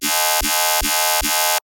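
A brostep synth bass run through a phaser with offset and tempo turned down drones in four even, loud, buzzy pulses, each opening with a low thump, then stops abruptly.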